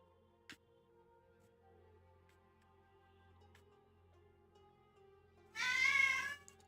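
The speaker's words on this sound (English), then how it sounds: "So you might hear my cats in the background occasionally." Pet cat meowing at midnight in a quiet room during a late-night game stream, one fairly close drawn-out meow near the end after near silence with faint clicks and low hum.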